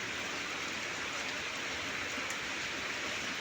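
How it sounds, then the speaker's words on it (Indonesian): Steady rain falls around midday behind a house, a soft, even hiss of drops with no breaks and no voices. "Menjelang siang hujan"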